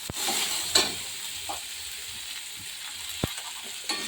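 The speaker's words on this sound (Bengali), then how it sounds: "সামান্য আদা বাটা দিয়ে একটু নেড়ে দেবো, হতে দেবো" Ginger-garlic paste fries in a pan while being stirred for ghugni, giving a steady soft sizzle with a few sharp scraping clicks from the stirring utensil.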